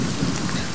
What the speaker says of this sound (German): Oh, der Regen ist voll laut.